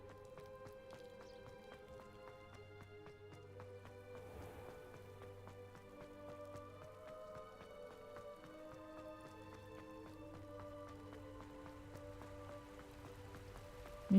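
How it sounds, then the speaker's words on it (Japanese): Steady rainfall in the video game Hogwarts Legacy, a constant hiss of drops on surfaces that runs the whole time, fairly loud, layered with sustained background music and no speech. "雨降ってる。"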